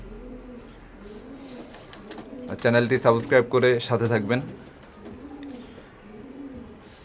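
Soft, low cooing from a breeding pair of Teddy pigeons repeats in a slow rhythm, with a louder stretch of talking over them in the middle of the clip.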